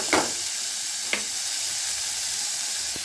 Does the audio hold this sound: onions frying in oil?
yes